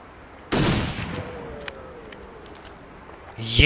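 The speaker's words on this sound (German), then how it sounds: "Ein Schuss, ein Treffer." A single sharp gunshot in the video game The Long Dark cracks out and rings briefly, followed by a quiet stretch and a metallic clatter at the end.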